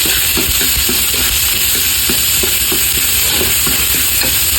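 Garlic and onion sizzle and fry in a hot pan for a squid adobo, with steady hissing under repeated stirring scrapes, loud and close with no talk.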